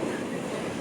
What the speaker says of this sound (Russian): Такой поезд двухэтажный.